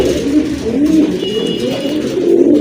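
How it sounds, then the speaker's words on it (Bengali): Gola pigeons cooing close by in a continuous overlapping murmur of low, throaty, rolling coos, loud and alone with no speech. "এটা হচ্ছে পুতুল গড়া কবুতর"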